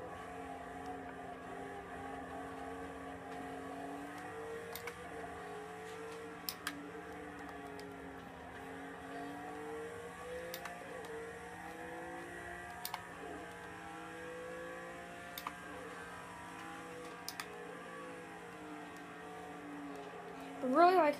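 A race car engine in the Project Cars 2 racing game at the Spa circuit, a steady sustained drone with slowly shifting pitch and occasional sharp ticks, running continuously at moderate level.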